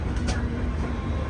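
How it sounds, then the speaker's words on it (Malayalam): An InterCity Express train pulling into Mahesana railway station, a continuous low rumble and rolling rattle heard from close by with a brief hiss early on. "മഹേസാന റെയിൽവേ സ്റ്റേഷനിലേക്ക് ഇതാ നമ്മുടെ ട്രെയിൻ എത്തിക്കൊണ്ടിരിക്കുകയാണ്"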